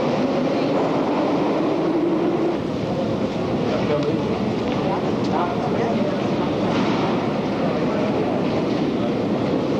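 Soviet metro train running, recorded on VHS in 1991: a loud, continuous rumbling roar of the moving carriage with steady rail noise throughout, heard from inside, with faint voices under it.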